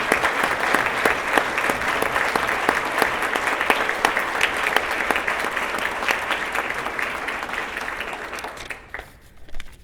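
Audience applause for teachers at a Teacher of the Year banquet, many hands clapping in a dense, sustained roar for nearly ten seconds before it tapers and drops off abruptly at the end.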